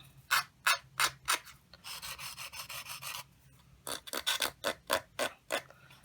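Nail file rasping against the corner of a paper card, a series of quick, close scraping strokes in short bursts with a longer continuous rub in the middle; no talking.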